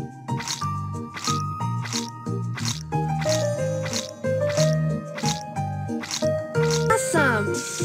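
Cartoonish squishing and dripping effects from a kids' animal hair salon and dress-up game as shampoo is worked onto a horse's legs, repeating in a steady bouncy rhythm over light game music with chimes near the end.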